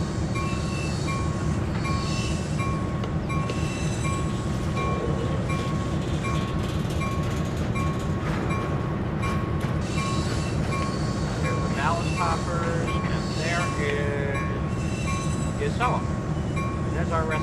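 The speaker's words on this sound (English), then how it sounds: "There's our rescue train." An Amtrak rescue train rolls along in Train Sim World 3, a steady rumbling roar of wheels on rail with clinks and clickety-clack, a sustained tone and brief horn-like notes, while someone talks over it.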